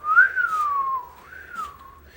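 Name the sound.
imitated whistling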